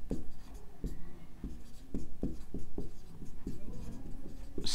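Chalk or marker writing on a classroom board, a run of quick tapping strokes and short scrapes in an uneven rhythm, close and fairly quiet, with no voice over it.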